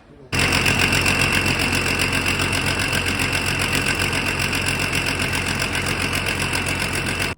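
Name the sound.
John Deere 9520 tractor engine firing and running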